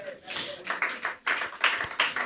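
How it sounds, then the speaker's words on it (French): A church congregation claps in uneven bursts, moderately close, with gaps between rounds of clapping and no voices over it. "On peut applaudir à la gloire de Dieu."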